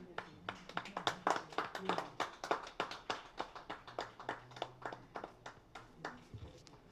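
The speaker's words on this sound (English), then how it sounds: "Big round of applause for her." Audience clapping at the inauguration of a hospital milk bank and lactation unit in Noida, a small, fairly close group, uneven hand claps that fade toward the end with faint voices beneath.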